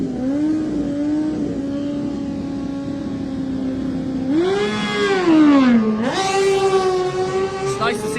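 Moto3 and 125 two-stroke Grand Prix racing motorcycles at the Manx Grand Prix, a high engine whine holding steady, then bikes passing close with rising and falling revs and sharp gear changes, loud and near.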